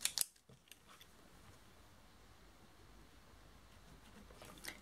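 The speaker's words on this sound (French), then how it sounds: "on va découper un ruban de 3 cm" Scissors snipping through a 3 cm strip of Liberty fabric ribbon for a bracelet, a few quick sharp cuts at the start followed by quiet room hiss.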